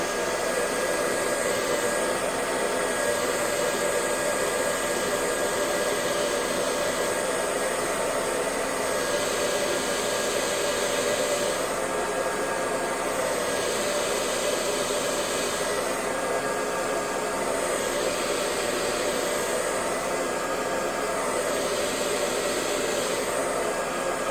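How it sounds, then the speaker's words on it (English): A hair dryer blows steadily onto a bald cap pressed down with a rat-tail comb, a loud, unbroken close-range whoosh lasting throughout. "firmly press it down right here and blow dry at the same time"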